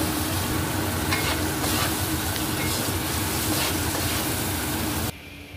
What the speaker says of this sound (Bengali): মাশরুমগুলো লবণ আর হলুদ দিয়ে হালকা করে ভেজে তুলে নেব।